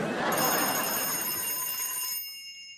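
A frog-shaped telephone rings with a bright, sustained electronic trill that cuts off near the end, heard up close indoors with no talking.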